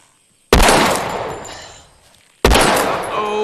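Two loud, sharp gunshot blasts during shooting practice at moving targets in The Walking Dead, the first near 0.5 s and the second near 2.4 s, each followed by a long, decaying echo.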